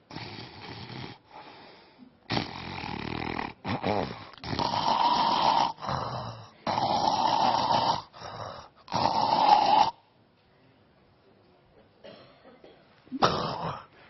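A man imitates snoring, rasping loudly in several long rattling bursts as he breathes in and out, then pauses into near silence before a final short snort.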